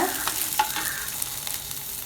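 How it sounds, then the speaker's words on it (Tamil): Urad dal and tamarind sautéing together in a pan for Tamil-style chutney, with a steady soft sizzle and faint scraping of a stirring spoon, close and continuous. "இதோட போட்டு ஒன்றா வதக்கிக்கோங்க."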